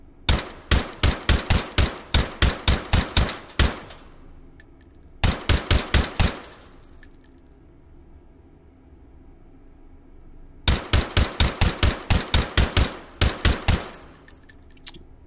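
Rapid automatic gunfire from the VR shooter H3VR, three loud bursts emptying the first magazine, with a gap of quieter room noise between the second and third volleys; no talking.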